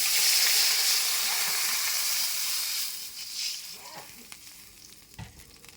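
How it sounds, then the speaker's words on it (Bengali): Fried onions sizzle loudly in a pan with a bay leaf as water is poured in, a steady bright hiss that fades and breaks into scattered crackles and stirring clinks toward the end. "পেঁয়াজ ভাজা হয়ে গেছে, এখন জল দিয়ে নেব।"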